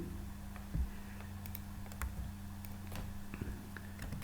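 Steady light typing on a computer keyboard while writing C code for a QR decomposition, with irregular soft key clicks and a few sharper taps over a low constant hum, close and quiet.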